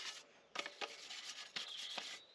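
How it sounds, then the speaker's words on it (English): Scratchy rubbing strokes of sandpaper against a bicycle frame, a few bursts back and forth, close but fairly quiet. "First basic sanding is done."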